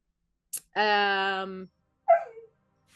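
A dog gives a short yip, then a sustained harmonic whine-like bark, and after a pause a brief whimpering yelp, close and clear against silence.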